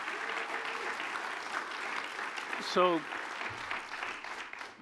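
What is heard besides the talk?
audience applause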